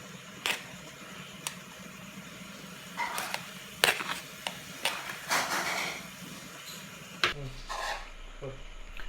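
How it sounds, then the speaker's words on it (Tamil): Cooked rice is stirred into tomato rice in a pan, with scraping, rasping strokes of a spoon against the pan coming in irregular bursts, close and moderately loud. "அதுக்கப்புறம் வந்து வடித்து வச்ச சாப்பாடை மிக்ஸ் பண்ணிக்கோங்க"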